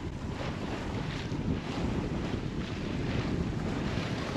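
Sailboat under way at about five knots in a southwest wind, with a steady, fairly soft rush of wind and waves against the hull and no voices.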